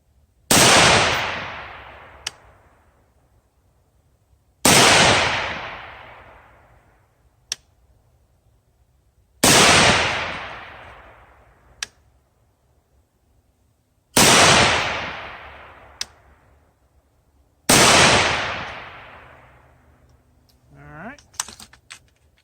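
Five loud rifle shots from an AR-15 fitted with a budget BCA 24-inch 223 Wylde barrel, firing 69 grain PPU ammunition, each sharp crack followed by a long decaying echo, evenly spaced about every four to five seconds, with faint clinks between.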